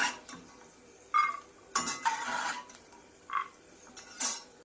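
Roasted peanuts scooped out of a wok onto a plate, with several separate clinks and scraping clatters of utensil against metal, close and sparse with quiet pauses between.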